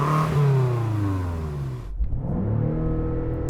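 A loud BMW M5 CS engine revving high, dropping sharply, then climbing again, with strong rising and falling engine tones close by.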